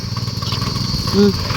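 A tractor engine runs with a steady, low, rumbling idle throughout a brief moment.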